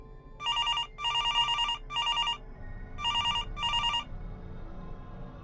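Electronic telephone rings trill across an empty call center floor at night in several short bursts, two to three pulses apart, fairly close over a low background hum.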